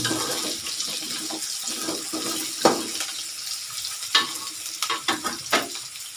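Jengkol beans frying in a pan with a steady, close, loud sizzle and hiss of hot oil, broken by a few sharper pops and crackles.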